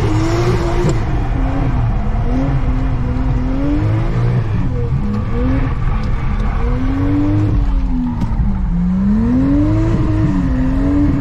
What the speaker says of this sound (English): Man, this car feels so good. It sounds good.